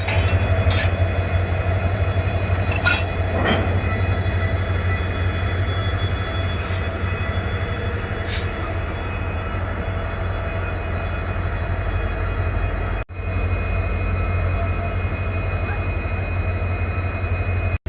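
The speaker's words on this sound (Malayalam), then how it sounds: "ഇവിടെ ഒരേ എഞ്ചിൻ അഴിച്ചു മാറ്റിയിട്ട് ആ എഞ്ചിൻ പോകുന്ന കാഴ്ചയാണ് നിങ്ങളിപ്പോൾ കാണുന്നത്." A detached locomotive moves away along the Western Ghats railway line between Sakleshpur and Mangalore, a loud, steady diesel rumble with occasional metallic squeals and clicks, ending in a sudden jolt.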